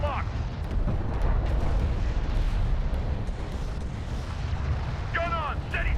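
Gunfire and explosions from combat vehicles in Deserts of Kharak form a continuous heavy rumble of shots and blasts, with brief radio-style voice chatter at the start and end.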